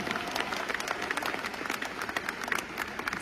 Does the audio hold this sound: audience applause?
yes